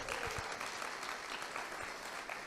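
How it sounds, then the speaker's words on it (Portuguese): Applause from a church congregation during a sermon: steady, dense clapping from many hands, continuous and fairly close throughout. "aplaudo o Senhor de novo"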